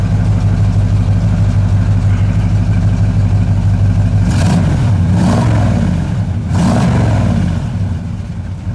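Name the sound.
big block car engine revving through exhaust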